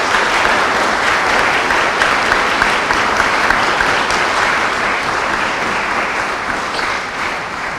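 Steady, dense applause from a large crowd at a basilica ceremony, loud and continuous throughout with no voices rising above it.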